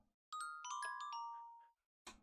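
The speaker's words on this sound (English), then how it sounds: "I probably should have made a better doorbell" A Minecraft note-block doorbell plays a short run of bright chiming tones that ring out and decay together for about a second and a half, followed by a brief soft click, in an otherwise silent setting.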